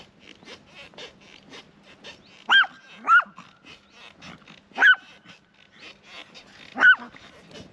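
Several dogs bark from a distance in four spaced, sharp outbursts over a quiet outdoor background near a village by the Château de Thoiry in France.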